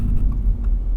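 A 2022 Toyota GR86 braking hard during a brake test, a steady low rumble of road and drivetrain noise heard from inside the cabin, loud and close with no talking.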